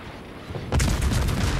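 A World of Warships Yugumo destroyer's guns firing in a rapid burst, loud booming reports that start abruptly partway through and continue in quick succession with no talk.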